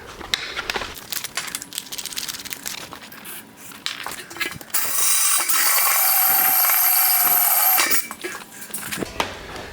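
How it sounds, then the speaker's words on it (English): A 19mm hole saw grinds into a metal beer keg in a loud, steady high-pitched burst lasting a few seconds, with scraping and clattering workshop noises before and after. "For this I'm using a 19mm hole saw."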